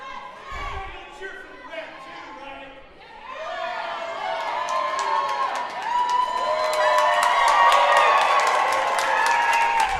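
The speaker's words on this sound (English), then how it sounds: "Crowd cheering for everyone but Dr." Crowd at a wrestling show cheers and shouts, swelling from scattered voices to sustained loud cheering with whistles and excited yelling, a commentator's voice running underneath.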